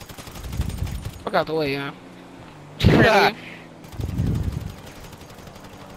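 Bursts of gunfire from the GTA Online game crackle in brief volleys between stretches of excited talk, with a distinct loud burst in the middle and lower rumbling shots around it.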